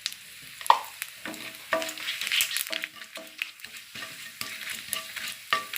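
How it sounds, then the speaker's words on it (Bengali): Whole cumin seeds frying in hot oil with dried red chillies and a bay leaf, a steady close sizzle broken by sharp scrapes and stirring clicks of a spoon against the pan. "গোটা জিরেটা ভালো করে ভাজা হয়ে গেলে"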